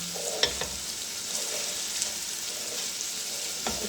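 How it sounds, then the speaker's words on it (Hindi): Ginger garlic paste sizzles steadily in a hot pan, with a continuous fry hiss and a few soft stirring clicks and scrapes, close and alone with no talking. "थोड़ा सा सौते कर लेंगे इसको, फिर हम अदरक लहसुन का पेस्ट इसके अंदर ऐड करेंगे"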